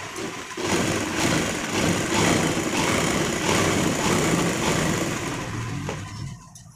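A sewing machine stitches along the edge of fabric, a steady close whirring motor hum that runs continuously for several seconds before stopping near the end.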